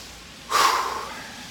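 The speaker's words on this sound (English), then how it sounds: "Take a deep breath with me now." A single deep breath drawn in sharply through the nose, a brief rushing inhale that swells and slowly fades out, close and clear against a quiet room.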